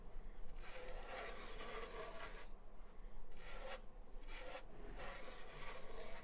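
Steel wool rubs back and forth over wet paint on a surface being given a faux wood-grain finish, a close, dry rasping scrape in repeated strokes with short pauses between passes.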